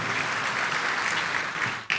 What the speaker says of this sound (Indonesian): Tepuk tangan dulu yang paling meriah buat Tuhan.